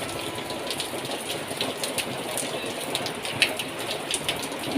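Heavy rain pours steadily outdoors as a dense, even hiss of drops on surfaces, with a faint low rumble beneath and no voices.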